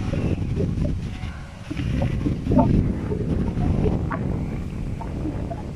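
Strong wind of about 37 km/h in Zaragoza, Spain, heard as loud, continuous rumbling buffeting across the microphone, with faint outdoor sounds beneath it.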